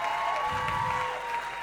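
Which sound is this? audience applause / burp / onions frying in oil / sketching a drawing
audience applause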